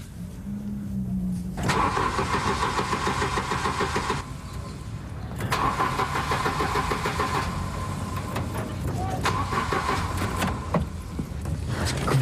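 A car engine cranks over and over without firing, in three drawn-out attempts separated by short pauses. The grinding is loud and close, with no talking.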